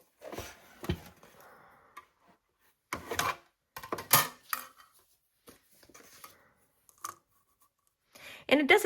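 Scissors snipping through paper for a handmade Halloween card, a few scattered bursts of close cutting separated by quiet pauses, with no talking.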